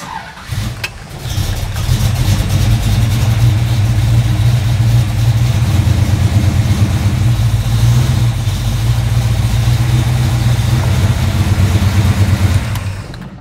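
A car engine cranks briefly and catches, then settles into a steady, loud idle with a deep rumble that runs alone for about twelve seconds before cutting off.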